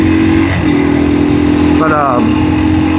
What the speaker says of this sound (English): Feels like my bike's cutting out.